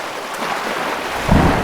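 An animated thunderstorm at sea brings a loud, continuous roar of wind, rain and surging waves around a boat, with a deep rumbling swell rising near the end.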